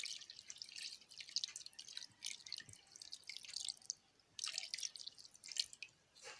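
Distilled water being measured and poured for a homemade face cream, heard as a run of light, bright drips and trickles, close and fairly quiet, with brief pauses between pours and no talking.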